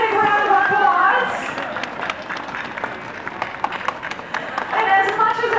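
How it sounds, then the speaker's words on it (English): Audience applause at a dolphin show at the Vancouver Aquarium, a steady wash of clapping from a crowd that swells, dips slightly, then builds again, with a voice talking over it. "Let's give these ladies a nice big round of applause."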